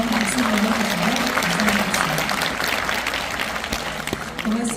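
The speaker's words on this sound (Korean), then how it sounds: "다시 한번 박수 보내주시면" Dense, continuous applause fills a concert hall during a centenary peace concert honoring Kim Dae-jung, a broad wash of many hands clapping with a faint tonal hum beneath it, easing slightly toward the end.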